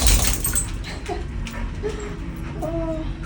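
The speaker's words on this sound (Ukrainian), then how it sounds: "Дивіться на цього мокрущого пса." A soaked dog whimpers softly in a few thin, high whines, close by over steady background noise.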